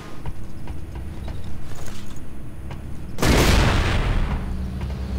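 Gun tower firing shells in the Resistance: Retribution game: a sudden loud blast about three seconds in, bursting out of steady rumbling battle noise and leaving a long roaring tail.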